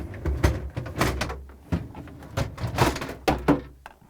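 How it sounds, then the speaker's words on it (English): Plastic crisper drawers pulled out of a Samsung refrigerator, giving a run of hollow knocks, slides and thunks at close range, with no talking. "I'm now going to pull out both crisper drawers."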